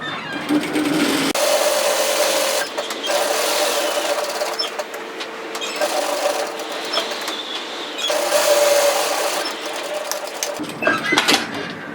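A sewing machine sews a scrunchie tie, running close and loud in several sustained stretches broken by short stops, with no voices.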